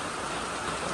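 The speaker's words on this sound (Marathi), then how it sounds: "फुल जोरात पाऊस पडतो एकदम." Heavy rain pours in a dense, loud, continuous roar that fills the entire moment.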